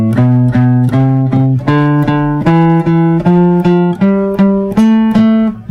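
A stringed instrument plays a scale in even eighth notes, each pitch picked twice with a down and up stroke, a clean steady rising line played close and solo.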